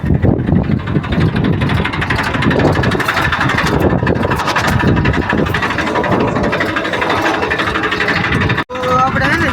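A tractor engine runs with a steady, throbbing drone beneath loud talking, continuing almost throughout before a brief cut near the end.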